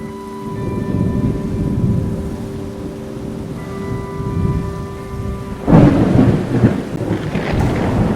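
Heavy rain pours steadily while thunder rolls and wind blows, swelling into a louder crack near the end; a low hum runs underneath.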